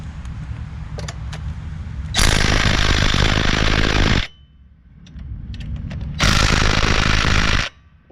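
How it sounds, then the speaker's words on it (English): An impact wrench hammers on the cylinder head bolts of a Kohler Command engine in two loud, close bursts of about two and one and a half seconds, with a quieter idle gap between them. "take these head bolts out. I'm just going to use an impact."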